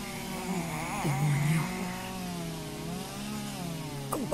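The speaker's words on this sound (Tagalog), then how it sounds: "chainsaw." A chainsaw engine from the Chainsaw Man anime revs and idles nearby, its whine rising and falling steadily for a few seconds.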